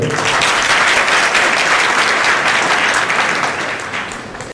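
Loud, dense audience applause at a religious fair gathering, close and continuous before it fades slightly at the very end.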